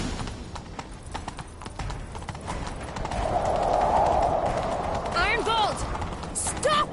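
Galloping horse hooves clip-clop steadily in a video game chase scene, a rushing swell in the middle and a whinny near the end, over game background sound.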